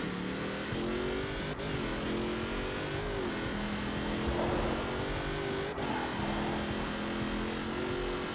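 A 1973 Range Rover in a racing video game revs hard and steadily while drifting on tires at 15 PSI, its mid-pitched engine drone continuous and loud throughout, broken by a few brief scrapes.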